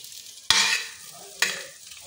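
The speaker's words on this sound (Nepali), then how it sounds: "मैले चाहिँ भात हालिसकेको छु, अब यसलाई मजाले चलाइहाल्छु" Cooked rice being stirred through fried rice in a hot pan: two distinct scraping stirs about a second apart, each with a burst of sizzling that fades between strokes, close and clear with no talking.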